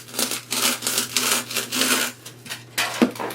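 Styrofoam being cut by hand for a Santa hat arrangement, a series of short rasping, squeaky strokes in an irregular rhythm, close and fairly loud.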